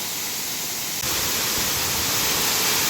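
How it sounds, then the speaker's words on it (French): A 42-metre waterfall at Sillans-la-Cascade pounds into the pool below, a dense steady roar of falling water that swells louder partway through, with no talking. "quand la cascade elle vient taper sur l'eau par terre"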